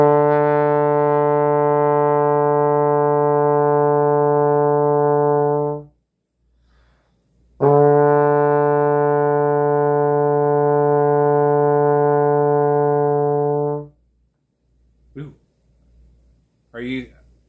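A trombone holds a D in fourth position in two long, steady, loud notes of about six seconds each, separated by a short pause, followed by brief vocal sounds at the end.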